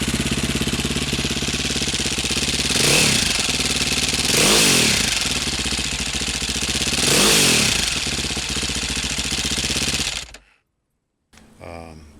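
A cold 505 SMR motorcycle engine idles close by with a rapid mechanical rattle from the cam chain, swelling a few times with light revs before it cuts off into silence and a faint clatter.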